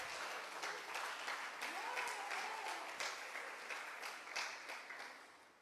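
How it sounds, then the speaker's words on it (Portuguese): A church congregation at a celebration service claps together in a steady, moderately distant round of applause with a loose rhythmic pulse, lasting several seconds without pause. "Pode aplaudir o Senhor."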